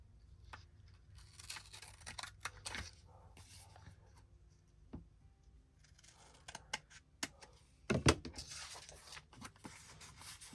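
Scissors cut paper for a journaling card: scattered crisp snips and rustles, quiet and close, with a sharper cluster of cuts near the end.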